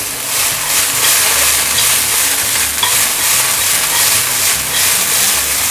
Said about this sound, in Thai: แต่เราผัด ให้แค่ถั่วงอกมันพอสลดแค่นี้เราก็พอแล้วนะครับ